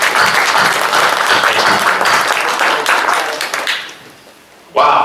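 A crowd at a rally applauds loudly with dense, sustained clapping that fades out near the end before a voice begins speaking.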